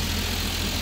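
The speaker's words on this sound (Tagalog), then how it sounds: "At ito yung andar ng makina sa unit ito mga kol." Steady, loud rumble of a Mazda Scrum turbo 4x2 mini van engine running, heard up close with a constant drone and no talking.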